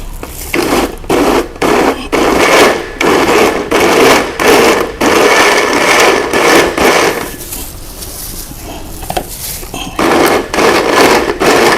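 A blender whirs loudly in repeated bursts while blending a water-based homemade amino acid mixture, short pulses at first, then a longer continuous run with brief stops.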